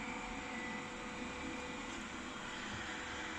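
A Xiaomi Mi Robot Vacuum-Mop Pro runs in a home, giving a steady, fairly quiet motor whir and broadband hum that holds evenly throughout with no talk.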